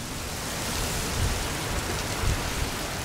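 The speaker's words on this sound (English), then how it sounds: "freezing rain. I don't know if you can hear it." Steady, dense hiss of freezing rain falling outdoors during an ice storm, with faint low rumbles underneath and no voices.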